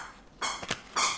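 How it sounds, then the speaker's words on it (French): A pet dog at play gives three short, high squeaky yelps in quick succession, faint and close, separated by near silence. "C'est mon chien qui joue."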